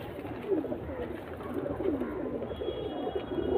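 Pigeons kept by a fancier coo softly and repeatedly in a steady low murmur, close by with a constant background hiss and no talking.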